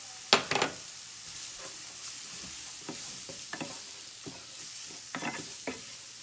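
Garlic and flour cooking in a pan, with a handful of sharp, scraping stirring strokes over a soft, steady sizzle, close by and with no voices.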